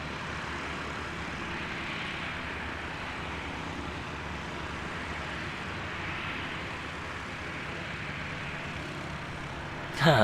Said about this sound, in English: Jetstar 232 heading off to Auckland.